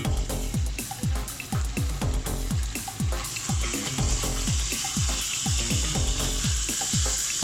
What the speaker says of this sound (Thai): เดี๋ยวต่อไปเราก็จะเอาหมูนะครับ ลงไปรวน